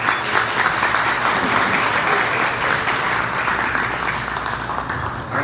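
An audience at a formal ceremony in Progreso, Yucatán, welcoming dignitaries at the installation of a fishing-industry board, breaks into sustained, dense applause that stays steady throughout before tapering slightly at the end.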